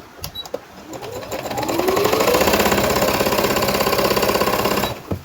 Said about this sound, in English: So I'm going to go to my sewing machine now and pleat it